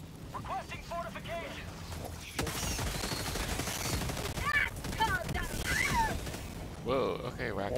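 Sickle energy weapon in a video game firing rapid bursts like an energy machine gun, a dense sustained stream of shots beneath intermittent chatter and other game effects.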